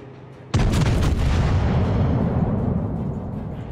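Main battery guns of the warships Siegfried and Ägir firing in a naval video game: a single sudden heavy boom with a deep low rumble that rolls on and slowly fades, loud and close.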